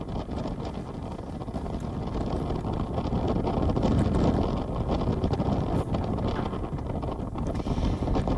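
Heavy wind roaring around a cruise ship broken down in rough seas off Norway's western coast, a loud continuous buffeting rush with swelling gusts.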